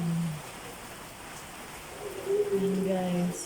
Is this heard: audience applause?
no